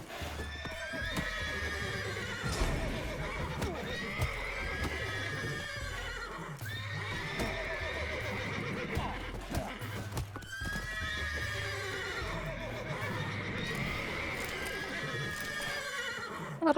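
Horses in The Witcher 3 video game whinny repeatedly over a steady clip-clop of hooves, with game ambience beneath.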